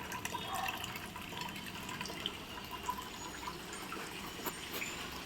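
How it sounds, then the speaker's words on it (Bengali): Quiet trickle of water poured onto a thirsty potted bougainvillea, a soft, continuous splashing and dribbling close by with no talking. "সেই জন্য আরেকটু জল দিয়ে নিলাম।"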